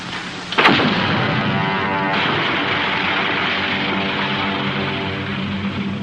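A cannon blast fired at a mountain in a fantasy film, one sharp loud boom followed by a long rolling rumble that slowly fades.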